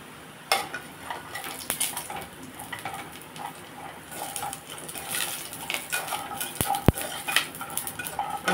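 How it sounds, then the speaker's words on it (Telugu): Sun-dried vadiyalu fritters frying in oil in a pan, a quiet bed of sizzle broken by repeated metallic scrapes and clinks of a utensil against the pan, with two sharp ticks near the end. "వడియాలు వేపుతాను."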